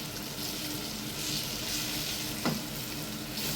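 Masala-coated fish fries on a tawa over a low flame, giving a steady, close sizzling hiss with one brief clink, and no voices.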